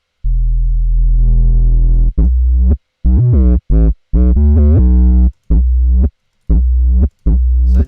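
Distorted neuro-style synth bass built in Ableton, its resonance driving the clipping: a sustained buzzy drone swells in, then a run of loud, choppy staccato notes with gritty harmonics and short gaps, alone without voices.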